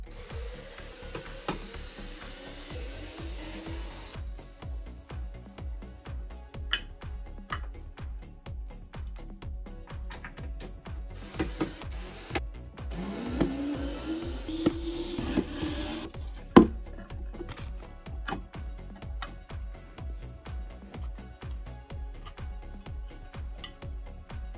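Screws are driven out of the 7-inch mid-range drivers of a JBL PartyBox 1000 speaker with a rapid, even ratcheting of a power driver, fairly quiet and close, with brief pauses between screws.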